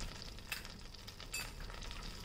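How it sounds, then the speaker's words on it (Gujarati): Cumin seeds sizzle in about 40 grams of hot butter on a pan while dal makhani is cooked, a soft, steady crackling fry with a few brief stirring scrapes, faint and close. "જીરુંને તતરવા દઈએ"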